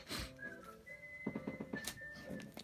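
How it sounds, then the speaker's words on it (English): Someone whistles a charming song from Deadly Premonition, a clear melodic line of sustained and bouncing notes with a few soft thumps beneath, close and moderately loud. "It's just someone whistling."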